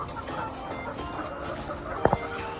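Ready-to-lay chickens cluck in a coop, with two short, sharp clucks standing out near the end over a steady background of softer flock noise.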